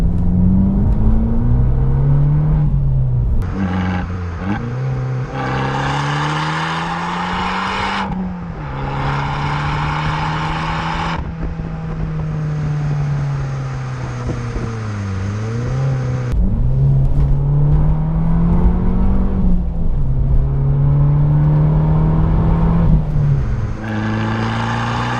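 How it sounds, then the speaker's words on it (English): An Abarth 695 XSR Yamaha with an Akrapovic exhaust revs hard, its engine note rising and falling through repeated sweeping climbs and drops, loud and close, with a rasping, aggressive tone and brief pauses between pulls. "You also get an akrapovic exhaust, which sounds pretty menacing"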